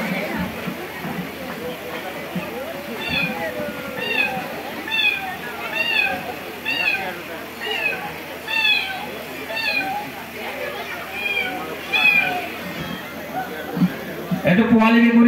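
A person imitates a kitten's meow at a cultural comedy performance, giving a long run of short, high, rising mews in steady succession over crowd murmur and background hubbub.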